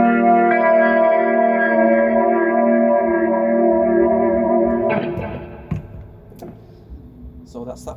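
A Rotary Ensemble guitar pedal shapes sustained electric guitar chords with a swirling, modulated shimmer and echo, ringing loud and steady before dropping into quieter, decaying repeats and a few picked notes.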